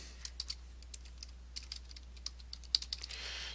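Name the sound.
typing a name on a computer keyboard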